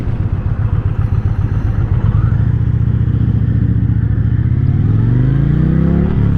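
An Indian Challenger motorcycle in standard mode pulls away from a standing start, its loud engine note climbing steadily in pitch as it accelerates hard, close to the microphone with no talk.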